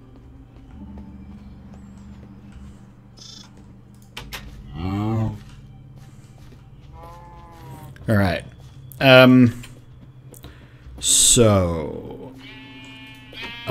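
Several sheep bleats from the Minecraft video game, each short and wavering, come at irregular intervals over a low ambient hum, with someone speaking briefly near the start.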